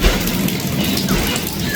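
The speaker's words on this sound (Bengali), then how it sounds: "বৃষ্টি আসছে সকাল থেকে একদম" Steady rain falls in a brief, even wash of close, moderately loud patter during a windy rainy day with a power cut. There is no speech.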